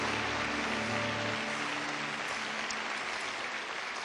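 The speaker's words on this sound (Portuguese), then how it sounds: "Isto, dê um aplauso ao Senhor." A church congregation at a Portuguese-language service applauds the Lord with sustained, even clapping from many people. A low steady tone sits beneath it at first, then the applause carries on alone.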